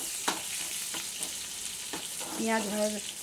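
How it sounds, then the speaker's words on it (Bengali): Oil left over from frying fish sizzles in a pan with onion and green chilli as the base for a fish curry. A soft, steady frying hiss carries a few faint taps and a brief muffled voice near the end. "ওই তেলেতেই আমি মাছের তেল ঝাল করে নেবো"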